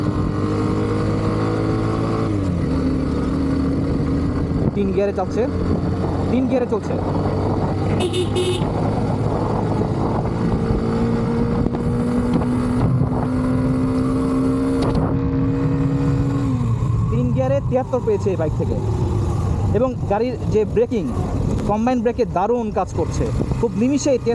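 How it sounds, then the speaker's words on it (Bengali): A Hero Xtreme 125R 125cc motorcycle engine revving and pulling in second gear, its pitch climbing steadily before dropping, with a horn toot early on and someone talking over the engine throughout. "চলুন আসলে একটু টেনে দেখি গাড়িটা কেমন দুই গিয়ে টানছে"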